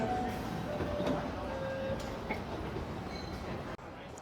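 A metro train at a New Jersey station rumbles steadily with a low mechanical drone and faint tonal whines, a brief clunk near the end, and indistinct voices in the background.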